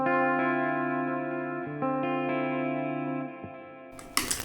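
An electric guitar played through a fuzz pedal with the guitar's volume turned down gives a sustained, slightly gritty chord that rings and decays over a few seconds, then a brief scrape of strings at the end.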